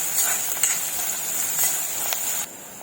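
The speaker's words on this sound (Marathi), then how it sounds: "कांदा लसूण आपण चांगला तेलामध्ये फ्राय करून घ्यायचा आहे" Garlic and onion frying in oil for a drumstick-leaf vegetable dish, a soft steady sizzle with light stirring scrapes that drops off abruptly near the end.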